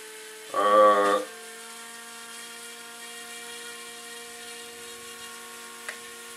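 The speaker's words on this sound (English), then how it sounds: "see the propeller is not stop spinning" HF F803C drone propellers spin up on the ground with the transmitter switched off: a short loud whirring burst, then a steady thin motor whine holding on through the rest.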